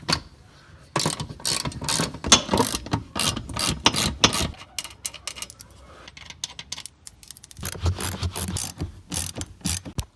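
Rapid ratchet clicking while undoing seat bolts in a Foxbody Mustang, in loud close bursts broken by a short pause, with a faint metallic jingle.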